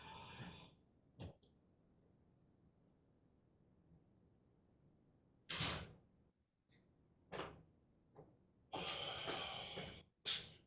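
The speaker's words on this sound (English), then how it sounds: "I got to close the door." A door is pushed shut indoors with a few quick knocks and thuds, followed by a firmer bang and a brief rattle near the end, in an otherwise quiet room.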